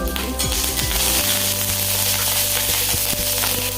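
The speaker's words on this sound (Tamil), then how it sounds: "இப்போ நமக்கு மிளகா வத்தல் கருவேப்பிலையும் நல்லா வறுத்து வந்துருச்சு" Dried red chillies and curry leaves roast in a pan on low heat for garlic idli podi, giving a steady soft crackle and sizzle close by, with a few light clinks of a spoon against the pan.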